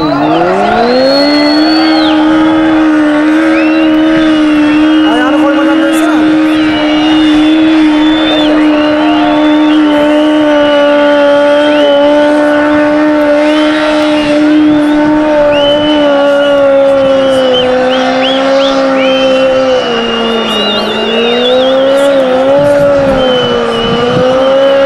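Car tyres spin and burn in a sustained loud screech over a revving engine, a continuous wailing squeal lasting the whole time with shifting pitch; voices shout faintly beneath.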